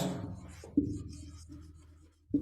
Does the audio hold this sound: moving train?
no